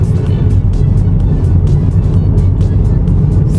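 A Daihatsu Tanto accelerating on the road as the pedal is pressed, its engine giving a loud, steady drone with faint ticking on top, heard from inside the cabin.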